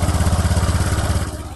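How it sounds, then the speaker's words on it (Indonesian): A Honda Vario 150 scooter engine idles steadily after a radiator coolant change, a close, even, rapid putter with a regular pulsing rhythm that stays constant throughout. "nyalakan mesin beberapa menit,"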